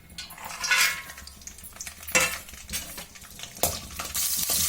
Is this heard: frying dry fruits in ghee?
yes